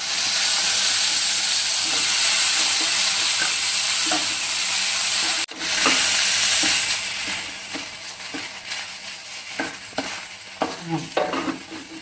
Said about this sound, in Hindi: अब इसको डालकर हम 3 से 4 मिनट तेज आंच पर इसको हम भूनेंगे।